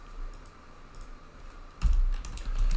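Typing on a computer keyboard: a few faint scattered key taps at first, then a quick cluster of louder, closer clicks near the end, with no talking.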